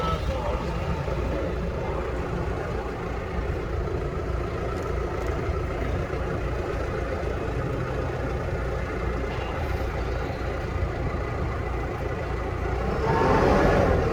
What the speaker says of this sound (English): we're going to talk over the noise of the tractor